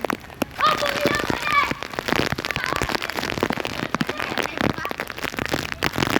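Steady rain patters and crackles across a surface, dense and close, with scattered sharper drops and faint voices underneath.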